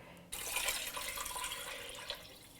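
Cold water, 3.5 liters, pours steadily into a stock pot for pork stock with a bright, splashing rush that starts abruptly and continues unbroken, close by.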